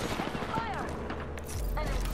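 Enemy gunfire in Apex Legends, a dense, fairly loud stream of overlapping shots with bursts and rattles mixed with other game sounds and voices.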